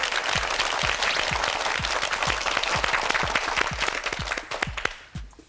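A studio audience at a Korean TV quiz show applauds loudly in a dense, sustained burst of clapping that fades out at the end.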